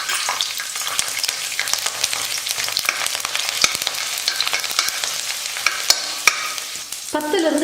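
Garlic cloves frying in hot oil with mustard seeds and fenugreek for a manathakkali vathal kuzhambu, a dense continuous sizzle close up with crackles, pops and stirring scrapes throughout, no talking.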